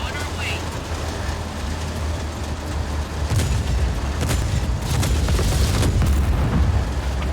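A tank cannon in Just Cause 4 sets off heavy, rumbling booms that roll under continuous battle noise, with a few sharper blasts toward the middle. Someone talks over the explosions.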